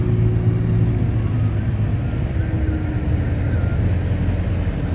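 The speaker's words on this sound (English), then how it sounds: "We are still in the traffic jam and you can see all the cars going in front of us." Steady road traffic in a jam near Shimla, with a continuous low rumble of car engines and idling vehicles close by, holding at an even level throughout with no clear voices.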